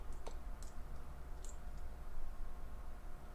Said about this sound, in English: I can either paste by right-clicking and clicking Paste, Special